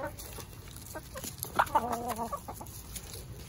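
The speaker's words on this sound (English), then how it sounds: "he's scared of some of the top-ranking hens." Hens clucking nearby, with a rooster among them, a burst of short rising calls in the middle over a quiet outdoor background, with scattered softer clucks around it.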